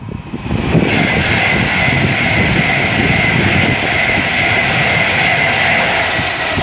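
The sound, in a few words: Class 390 Pendolino train passing, London to Manchester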